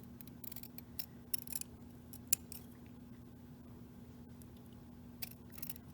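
Scissors make a few faint, crisp snips while cutting a tiny section of a small paper dragonfly wing, with quiet spaced clicks over a soft steady background hum.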